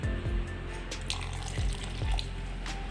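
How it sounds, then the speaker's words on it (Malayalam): Water runs from a tap and splashes into a pot of masala curry, a continuous gurgling flow with a few soft knocks, close by and without talking. "അല്പം കൂടെ വെള്ളം നമുക്ക് ഒഴിച്ചു കൊടുക്കാം"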